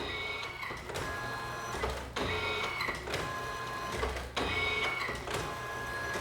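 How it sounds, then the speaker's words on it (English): An Alps ribbon printer printing layers of ribbon for custom stickers, a continuous close mechanical whir and rattle with rhythmic carriage passes and a faint high whine, running steadily with no talking. "So what you're seeing now is it's printing different layers of ribbon, just like a regular inkjet printer would."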